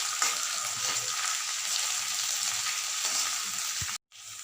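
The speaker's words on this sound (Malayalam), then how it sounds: "അതിലേക്ക് ഇഞ്ചി, വെളുത്തുള്ളി, പച്ചമുളക് ചതച്ചത് ഇട്ട് കൊടുക്കാം" Crushed ginger, garlic and green chili sauté in hot oil for chicken kondattam, a constant close sizzle with faint stirring, cut off abruptly near the end.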